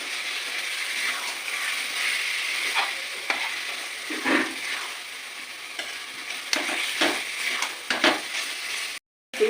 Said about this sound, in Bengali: ম্যারিনেশন করা চিকেনগুলো আমি আস্তে আস্তে সব ঢেলে নেব।